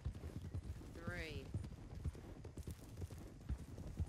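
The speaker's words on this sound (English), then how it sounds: "Horses. Three riders." Horse hooves clip-clop in a steady, uneven rhythm as three riders approach, with a brief whinny partway through and people talking over the hoofbeats.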